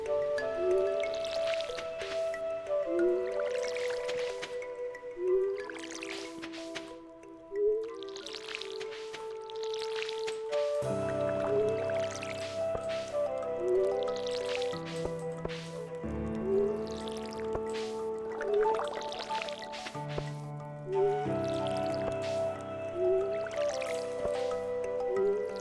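Water from a watering can splashes repeatedly onto crops in Stardew Valley, each pour a quick, bright drip-and-splash effect over a steady, looping melodic game soundtrack.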